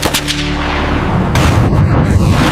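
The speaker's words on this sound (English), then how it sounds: "the MiG's cannon unleashes a storm of 30mm rounds." A MiG fighter's cannon fires 30mm rounds in a loud, close burst of booming shots, followed by a sustained roaring blast that keeps building rather than fading.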